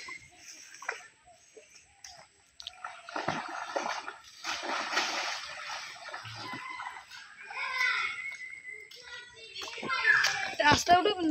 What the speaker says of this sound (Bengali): কাদা এখন ধোয়া হচ্ছে।